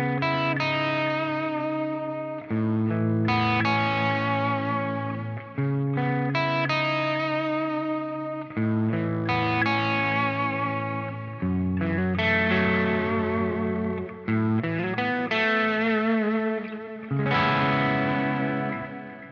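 Electric guitar played through an Eventide H90 effects unit with modulation switched off, ringing chords and picked notes in repeated phrases, driven and slightly distorted with some ambience, steady and close.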